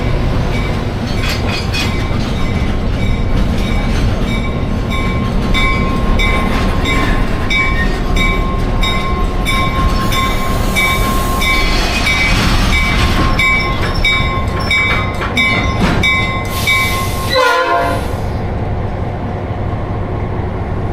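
Black River and Western Railroad heritage train rolling near Ringoes, New Jersey, a loud steady rumble and rattle of cars with ringing tonal whine, ending in a sharp burst of air or brake noise before fading.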